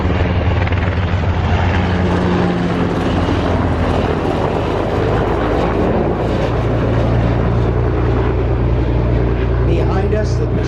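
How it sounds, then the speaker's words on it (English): A Seahawk helicopter flies over San Diego Bay, its continuous low rumble and rotor drone heavy and steady throughout, heard from a harbor boat with wind and engine noise mixed in. "It's another helicopter."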